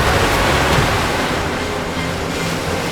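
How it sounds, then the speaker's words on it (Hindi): Rushing water, standing for a river flooding downward in a mythological Ganesh television drama, roars as a dense, steady wash of broad noise with low rumble, loud and continuous without any voices. "अब तो ये जल नीचे उतर रहा है,"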